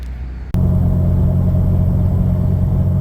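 Loud, steady exhaust drone from a Nissan Xterra with its muffler cut off and cherry bombs fitted, heard from inside while driving, kicking in sharply after a brief quiet start and holding a deep rumble.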